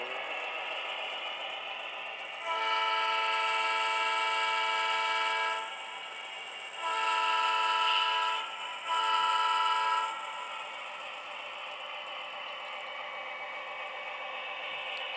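A train's horn sounds in three long blasts over a steady rumble of rolling rail cars, with brief pauses between the blasts, as a train couples onto a CN caboose on the L'Orignal Railway in Ontario.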